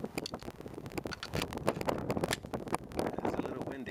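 Outdoor wind gusts buffet the microphone at a shooting range in irregular rumbling bursts, loud and close, with a voice speaking over it.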